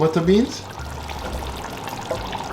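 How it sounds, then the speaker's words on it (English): Butter beans are tipped from a container into a pot of oxtail stew, making a brief wet pouring slosh near the start, followed by a quieter low simmering background, with a person talking over it. "I'm also gonna add the butter beans."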